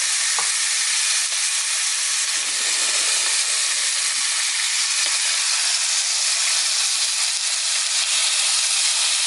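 Shrimp sizzling loudly in a hot pan for shrimp and grits, a steady, bright frying hiss that holds evenly throughout, with no talking.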